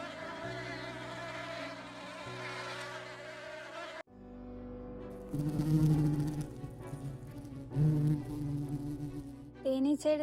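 Honeybees buzz close by in a steady droning hum, with a brief break midway before the buzzing resumes, louder and more layered, joined by occasional faint rustling.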